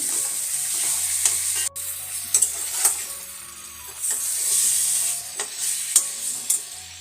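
Fish being stirred in a pan with salt, chili and ginger-garlic paste over a low flame for a village-style fish-head sambar, giving steady soft sizzling with repeated scraping strokes of a utensil, close and clear, no voices.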